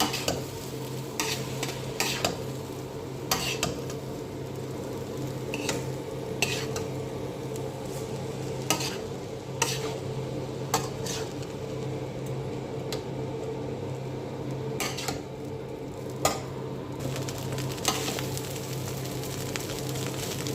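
Chicken fried rice stirred in a pan after vinegar and soy sauce go in, continuous sizzling under a steady run of regular metal spatula scrapes and clinks against the pan, close and fairly loud, no voices.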